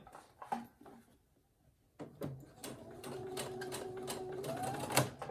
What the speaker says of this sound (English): I'm going to top stitch this right here, and remember to go back and forward.